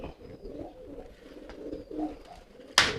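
Homing pigeons coo softly in a loft, low repeated throaty coos rising and falling close by, ending with a brief sharp rustle or clatter.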